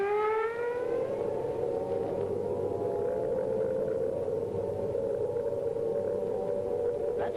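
A wartime air raid siren in Britain warns of an approaching Luftwaffe attack, its tone sweeping up then holding a loud, steady wail that sounds continuously throughout with no one talking.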